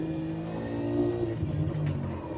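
A V8 Supercar on the Nürburgring in iRacing, its engine note rising and shifting as it blips through a downshift toward second, loud and steady throughout with no voices.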